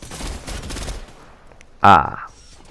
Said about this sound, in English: So I use a heavy shotgun in order to accomplish that.